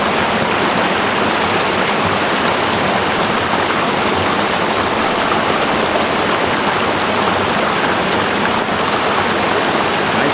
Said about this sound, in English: Behind me is the North Fork of the San Jacinto River.